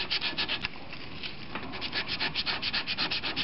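Sandpaper is rubbed over a piece of HDPE plastic to roughen it for gluing, making a steady, close, rhythmic scraping of quick back-and-forth strokes with no talk.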